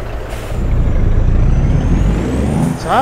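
A Detroit diesel engine in a Freightliner Classic truck in American Truck Simulator gives a loud, steady low rumble, followed by a brief hiss and a rising whine near the end.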